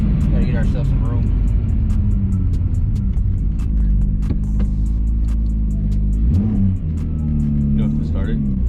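Single-turbo BMW 335i tuned to about 30 psi of boost accelerating hard in third gear, a loud, steady engine drone rising in pitch, with brief talk over it in the cabin.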